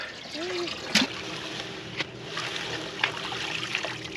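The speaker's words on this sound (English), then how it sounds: "You're splashing." Water splashes and trickles nearby as harvested vegetables are washed, with a few brief sharp splashes, while voices talk softly in the background.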